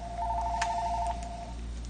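A cordless telephone rings once with a steady electronic tone lasting about a second, moderately loud over a low background hum, with no talk.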